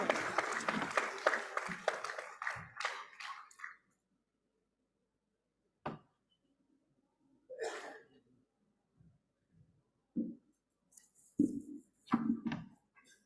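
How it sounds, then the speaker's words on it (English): An audience at a felicitation ceremony applauds with dense, lively clapping that tapers off within a few seconds, followed by quiet room noise, breaths and a few soft murmurs. "Can we have a great round of applause,"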